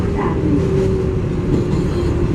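An MTA 7 local subway train in New York rumbles loudly and continuously, with a steady roar and faint high squealing from the wheels and track.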